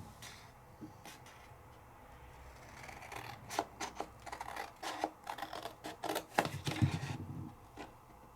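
Scissors cut out a paper craft piece at close range, a run of short, crisp snips that grows busier over several seconds in an otherwise quiet room, with no talking.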